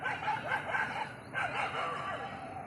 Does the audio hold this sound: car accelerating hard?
no